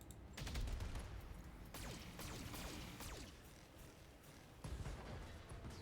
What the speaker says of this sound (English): we're just getting with the autocannon and the lasers